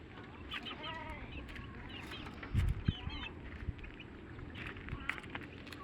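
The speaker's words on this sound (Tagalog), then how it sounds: "May mga manok na dito." Chickens on a rural Philippine farm cluck and squawk in scattered, fairly close bursts over a low outdoor background, with one louder thump in the middle.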